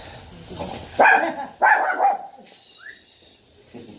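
A training demo dog barks twice in close succession, loud and near, followed by a brief high whine and quieter shuffling in a class setting.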